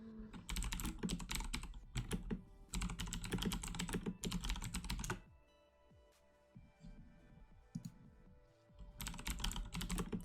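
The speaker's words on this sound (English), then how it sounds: "Sorry about the typing." Rapid bursts of typing on a computer keyboard, close and clicky, come in three long runs separated by a quieter stretch of faint tapping and low background sound.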